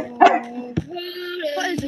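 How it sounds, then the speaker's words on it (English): A dog barks a couple of times close by, short sharp yaps mixed with a voice talking over it. "Look at the dog."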